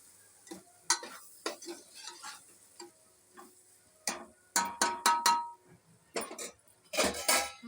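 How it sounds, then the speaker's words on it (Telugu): A spoon stirs a poha mixture seasoned with cumin powder in a pan, giving a run of sharp scraping clinks and taps, some in quick bursts, with quiet gaps between them. "తర్వాత ఒకసారి మంచిగా కలుపుకోండి ఫ్రెండ్స్."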